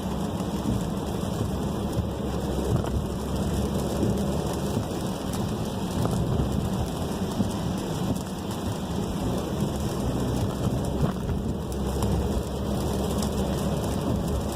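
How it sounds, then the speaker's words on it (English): Rain during a commute in a Volkswagen Tiguan on a wet road: a steady, dense hiss of falling rain that stays loud and even throughout, with no voices. "Bad commute in the rain."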